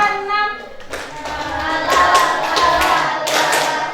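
A voice speaks first, then several group hand claps follow in a counted classroom rhythm, loud and close, with talking carrying on under them.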